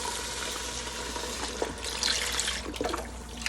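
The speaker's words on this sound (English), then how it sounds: "Now we wanna add our 8 cups of beef broth." Beef broth, eight cups of it, pours into a soup pot for corned beef and cabbage soup, a steady watery splashing stream that runs throughout and swells louder midway.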